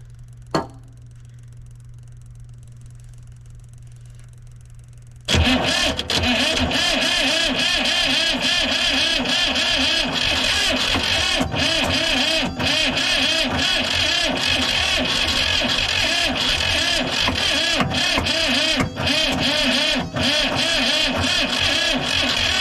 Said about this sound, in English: give it just the teeniest bit of ether while it's cranking so it doesn't ether lock